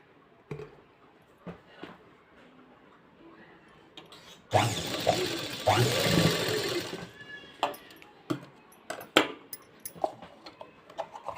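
A sewing machine stitches a blouse in one loud rapid whirring burst of several seconds, with soft clicks and handling noises before and after it.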